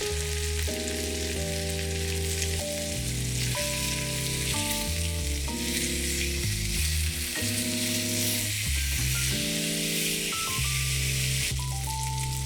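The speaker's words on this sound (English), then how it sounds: "cook on a hot cast iron pan for 2 to 3 minutes per" Marinated lemongrass steak sears on a hot cast iron pan, giving a constant bright sizzle that sits under loud, sustained melodic background music for the whole stretch.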